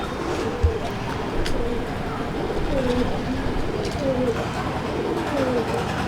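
Pigeons in a loft coo in low repeated rolling phrases at a steady pace, clear and close, with a person speaking faintly in the background.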